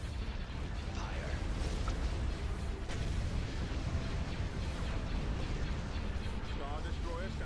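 Blaster and cannon fire from a Star Wars: Empire at War space battle crackle in a dense, continuous barrage of overlapping shots and bursts. The clip stays loud throughout, with voices faintly mixed in.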